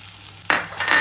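Capsicum and onion sizzle in a hot pan while egg noodles are being made: a sudden loud burst of frying as the vegetables hit the oil, settling into steady crackling hiss.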